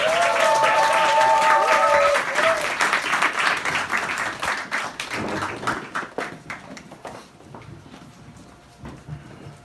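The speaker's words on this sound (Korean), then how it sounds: "여러분의 뜨거운 박수로 모셔보도록 하겠습니다" Audience applause at a Christmas joint concert in a bar venue, greeting an a cappella group; loud, dense clapping that gradually thins and fades over the clip, with some talk in the room.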